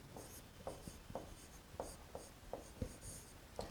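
Pen strokes scratch across a surface as a word is handwritten, in short rhythmic scrapes and taps that are quiet and close.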